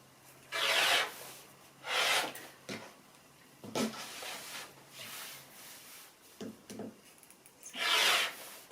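Fabric for a patchwork cushion is trimmed square, giving a series of rasping, scraping cutting strokes in irregular bursts, each lasting about half a second. They sound close and moderately loud, with no voices.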